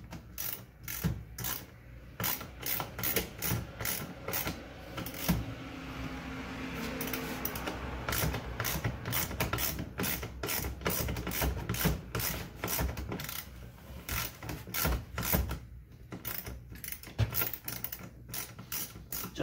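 Ratchet clicks rapidly with a longer extension while car interior fasteners are removed from a Nissan 300ZX during dash and interior teardown, steady close metallic clicking in bursts throughout with no talk.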